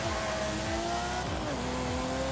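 Ferrari 512 TR launching in Forza Horizon 5, stock with only an aero kit, rear-wheel drive: a loud, continuous engine drone with rising revs and gear-shift steps, no voices.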